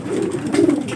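Homing pigeons coo in a low, throaty, continuous rolling murmur at a loft during feeding, close and steady across the whole moment with no talk over it.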